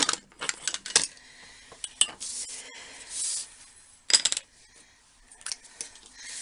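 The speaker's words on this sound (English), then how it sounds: "now I'm going to get a metal ruler to do my cutting with" A metal ruler is picked up and handled for card cutting, giving scattered light metallic clinks and clatters in short irregular bursts, close by with no talking.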